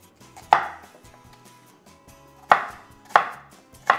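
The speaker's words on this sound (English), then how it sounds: "I'm gonna cut me some onions." A knife chops medium-sized yellow onions on a cutting board for striper fish chowder: four sharp, close strikes spaced unevenly, each with a brief ringing decay, with quiet pauses between and no voices.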